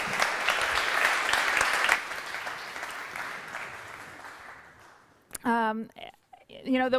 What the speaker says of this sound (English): A round of applause for Juho Kostiainen.